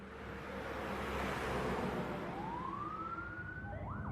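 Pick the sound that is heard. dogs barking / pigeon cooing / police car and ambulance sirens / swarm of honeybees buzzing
police car and ambulance sirens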